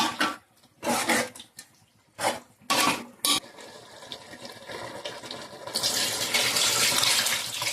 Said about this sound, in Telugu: చింతపండు పులుసు ఇంకా పోస్తానండి